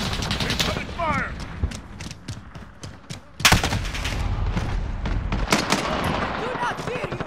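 Rapid gunfire in the Call of Duty Modern Warfare video game: bursts of automatic shots crackle near and loud, with a heavy blast midway, while radio-style voices talk over the shooting.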